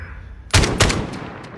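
Gunfire in a shooter video game, two close sharp shots about a third of a second apart followed by a faint distant pop, over a quiet background.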